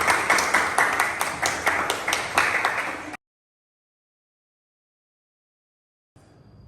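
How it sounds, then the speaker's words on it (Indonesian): A classroom group claps together for a quiz team, a brisk run of hand claps lasting about three seconds before cutting abruptly to silence, then a faint room hum. "Tepuk tangan untuk tim A."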